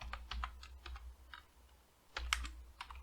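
A few soft, fairly distant clicks come from a computer keyboard as a search is typed into a Chrome browser, in two short bursts separated by a pause, with no talk.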